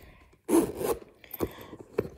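A zipper on a Louis Vuitton bumbag is pulled in one quick close rasping stroke, followed by a couple of fainter short zips and rubs in a quiet room.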